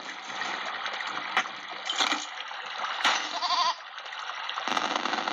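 A goat in the video game There Is No Game bleats in a few short wavering calls over a steady gushing, watery background, with quick glitchy electronic pops in between.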